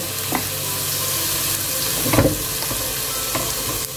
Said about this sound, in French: je fais revenir des oignons dans un peu d'huile